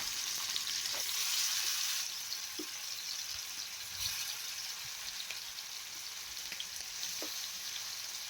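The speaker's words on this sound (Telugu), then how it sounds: "ఆయిల్ హీట్ అయిన తర్వాత మనం ముందుగా మ్యాగ్నెట్ చేసి పెట్టుకున్న ఫిష్ పీసెస్ని ఆయిల్లో మెల్లిగా ఇలా వేసుకోవాలి" Fish pieces frying in hot oil in a pan, a steady hiss and crackle throughout with a few small pops.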